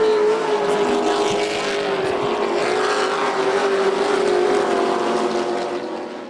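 Pro trucks racing on a dirt track, a loud sustained roar of several engines passing close in a pack and fading slightly at the end, with faint commentary beneath.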